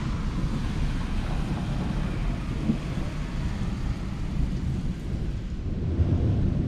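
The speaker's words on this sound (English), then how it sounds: "Almost continuous thunder." Nearly continuous thunder rumbles low and heavy under wind and breeze during a severe thunderstorm evening in Southeast Michigan, a dense, unbroken roar with no clear single claps and no voices.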